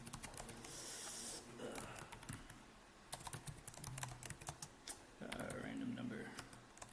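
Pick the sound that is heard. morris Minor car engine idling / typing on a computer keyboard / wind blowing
typing on a computer keyboard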